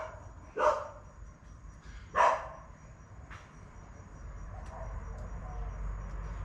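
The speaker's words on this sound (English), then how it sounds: "Apologies for the dog." A dog barks twice, sharp and fairly near, during a quiet indoor yoga class, with a few softer yips after, against low background hum and faint insect chirping.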